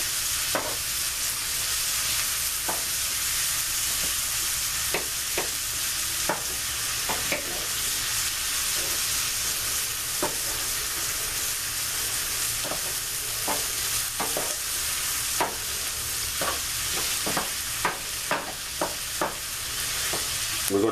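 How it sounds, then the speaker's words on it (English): Minced garlic frying in a pan while being stirred, a constant close hiss of sizzling oil broken by regular light scraping and tapping strokes of the spoon against the pan. "We're going to add our minced garlic now."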